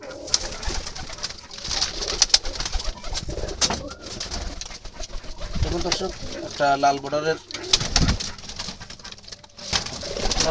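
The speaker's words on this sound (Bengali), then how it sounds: "লাল চোখের কবুতর এবং খুবই সুন্দর কালারফুল" Jalali wild pigeons with red eyes coo and rustle around a loft, soft rounded calls and occasional wing flutters under someone talking steadily nearby.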